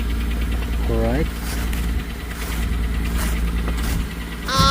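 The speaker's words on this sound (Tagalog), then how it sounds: "Naka-start na yan, parang ma-warm up yung makina, no?" A car engine idles steadily while warming up on a cold, snowy day, a low constant rumble close by, with a person speaking briefly over it.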